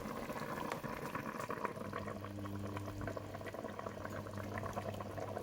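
A pot of peanut paste sauce for chicken mafé simmers steadily, a close continuous bubbling and burbling with a low steady hum beneath and no voices.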